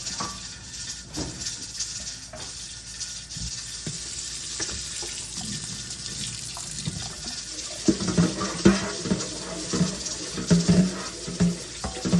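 Tap water running over carrots, onions, celery and green pepper in a sink, with a steady splashing stream and uneven bursts as the vegetables are turned under the flow, growing louder near the end.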